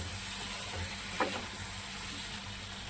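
Ginger and cumin spices sizzle steadily in hot oil in a pan, a soft continuous frying hiss with a brief clink near the middle.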